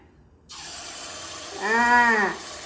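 Kara paniyaram batter poured into hot oil in a pan sets off an abrupt, steady sizzling hiss, with a brief high whine rising and fading partway through.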